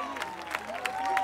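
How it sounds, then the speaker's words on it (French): Audience applause at the Miss Mayotte 2013 pageant, a scattering of claps and crowd noise heard under a sustained tone, with occasional louder claps standing out. "Bravo Alexandra, sous vos applaudissements."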